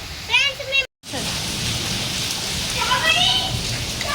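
A hailstorm pours onto a mango tree as a steady, dense hiss of falling rain and ice, with a voice speaking briefly near the start and chirping sounds over the downpour.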